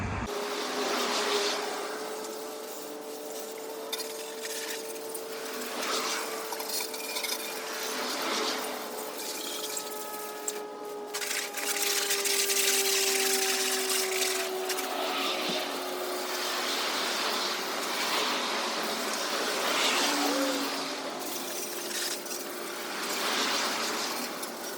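Water sprays steadily from a hose or pressure washer onto a dirty 2nd-generation Dodge pickup truck, a continuous hissing rush lasting the whole stretch with a faint whining tone underneath and no talking.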